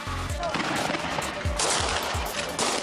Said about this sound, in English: Gunfire went on for 20-25 minutes.